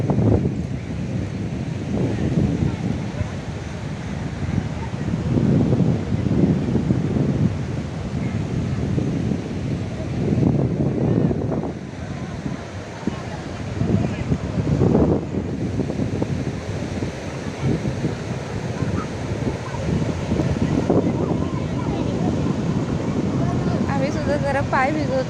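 Sea waves break on Karde beach while wind buffets the microphone in loud, rough gusts. The surf rumbles steadily, with crowd chatter from nearby tourists mixed in.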